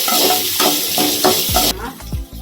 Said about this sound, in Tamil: காஞ்ச மிளகா, வெங்காயம் லைட்டாக வதங்கினா